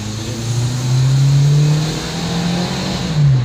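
A Nissan with an HR15 engine that had been losing power revs up under acceleration, a steady close engine drone rising and holding in pitch over a few seconds, with no talking.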